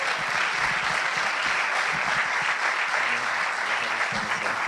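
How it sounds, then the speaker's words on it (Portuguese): Church congregation clapping steadily for Jesus during an evangelical service, a dense continuous applause that holds at an even level throughout with no pauses. "Palmas para Jesus até ele chegar, igreja"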